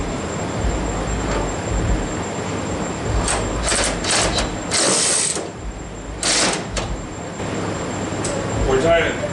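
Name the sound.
ratchet loosening hood hinge bolt on 1969 Cougar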